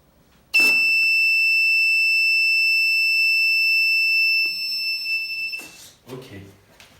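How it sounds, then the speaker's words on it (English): An electronic buzzer wired to a PIR motion sensor sounds one steady, loud, piercing tone for about four seconds before cutting off, followed by brief handling noises nearby. "each time I'm moving, the PIR sensor will detect me and the buzzer will be switched on"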